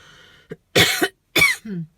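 A person coughs in the open air amid blowing desert sand at an off-grid homestead in central Portugal: a faint throat sound, then two loud, harsh bursts close to the microphone and a short throaty trailing noise.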